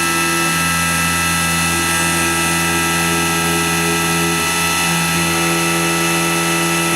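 A CNC mill cuts with a 9/16 ball end mill, contouring a Bultaco motorcycle brake bracket under coolant: a steady, loud machining drone with a constant whine that holds for the whole stretch, with no voices.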